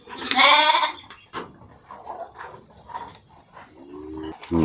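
Dorper sheep on a breeding farm bleat loudly and close at the start, followed by quieter mixed animal calls and farm noise, with another short bleat near the end.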